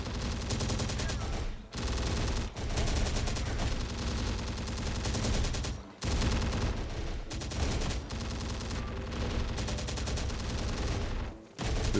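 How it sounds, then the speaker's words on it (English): Sustained gunfire from Terminator: Dark Fate Defiance tactical combat, a dense, continuous roar of repeated shots running almost without pause, loud throughout with only brief dips. "Yes, there's a lot of firing going on."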